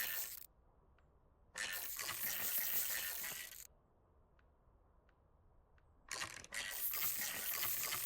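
Ratchet wrench clicking as a car part is bolted on in the Car Dealer Simulator video game, two loud bursts of rapid ratcheting separated by quiet background with faint ticks.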